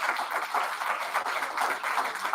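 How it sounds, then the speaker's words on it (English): A Rotary Club audience gives a round of applause at its meeting, many hands clapping in a steady, moderately distant wash that holds evenly for a couple of seconds. "So big round of applause for our people."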